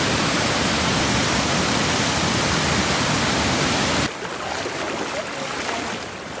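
A small stream in Malshej Ghat swollen after heavy rain, rushing water as a loud, even hiss that drops to a softer, thinner flow partway through; no talking.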